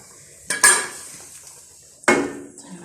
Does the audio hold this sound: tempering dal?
yes